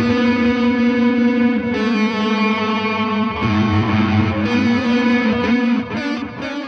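An electric guitar is played through an op amp Big Muff fuzz pedal, giving a thick, sustaining run of distorted notes and bends, loud and up close with no talking.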